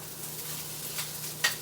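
Pork link sausage and egg stir fry fries in lard, a steady soft sizzle with brief hissy swells and a small utensil clink near the end.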